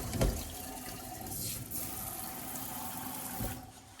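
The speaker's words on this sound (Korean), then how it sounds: "폭포 수전 요즘 많이 쓰십니다. 물이 이렇게 나오죠? 돌리면 또 세게도 틀 수 있습니다." Water pouring steadily from a waterfall-style kitchen faucet into a sink, a continuous close rushing splash with a couple of brief knocks.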